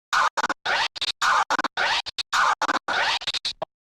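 Rapid DJ crab scratches made by hot cue cutting, with no platter or turntable wheel used: bursts of a cut sample chopped into fast stuttering fragments, loud and close, with clean gaps between each cluster of cuts.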